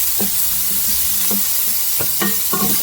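Organic Italian sausages sizzling in a pan, a loud, steady frying hiss close up, broken by several short scraping stirs of a utensil against the pan.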